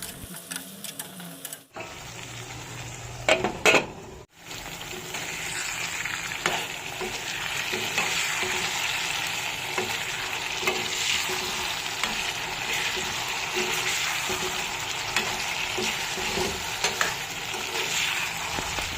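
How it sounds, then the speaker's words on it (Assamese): Chicken and pumpkin fry in a pan, a steady loud sizzle running throughout with scraping stirs and spoon clinks near the start, no voices. "ৰঙলাও আৰু মাংসখিনি ভালদৰে এবাৰ লৰাই লম"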